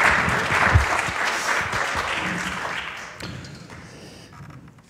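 A conference audience claps steadily, a dense wash of applause that gradually thins and fades toward the end.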